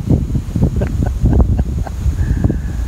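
Wind buffeting a microphone outdoors at McConnells Mill State Park, loud, gusty low rumbles pulsing irregularly throughout, with no voices.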